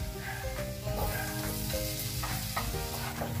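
Garlic and onion sauté for tuna pasta, with a dense, continuous sizzle close by and a spoon scraping and stirring against the pan now and then.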